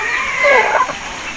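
An Aseel rooster, a young long-faced show bird, gives a single short clucking call that rises to a louder peak midway, heard alone with no speech.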